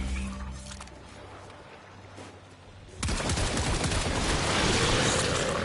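Sustained weapon fire aimed at a hive in Warframe, a loud, dense burst of rapid shots starting partway through and continuing to the end, after a quieter stretch of ambient game noise.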